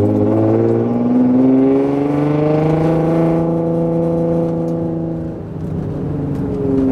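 A lowered car on wheel spacers drives along, its engine a loud, steady droning hum with rising and falling pitch as it moves, heard close from inside the cabin; no clear scrape stands out.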